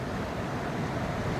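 A flooded river rushes past in a loud, steady broadband roar of churning water, continuous throughout with wind buffeting the microphone.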